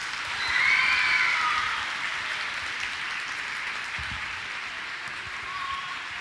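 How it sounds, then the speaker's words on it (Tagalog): Loud audience applause fills a school symposium hall, swelling early and then holding as a steady wash of many hands clapping, with no talk over it. "May nagbayad ba sa kanila para pumalakpak ng ganong kalakas?"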